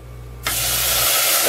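A sudden loud hiss starts and continues steadily as a cup of water is poured into a hot pot of Egyptian-style white rice, sizzling and splashing close by.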